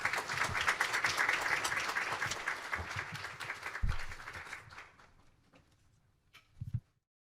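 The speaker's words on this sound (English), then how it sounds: "Everyone, please give a big round of applause." Audience applause at a children's world peace summit, a broad wash of clapping that fills the first several seconds, then thins and fades out, with a brief burst near the end.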